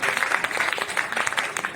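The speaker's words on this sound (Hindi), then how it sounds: "उसके लिए एक बार अच्छी तालियां बजनी चाहिए।" Brief burst of audience applause at a Hindi Day award ceremony in Lucknow, steady dense clapping from a hall crowd, no talking over it.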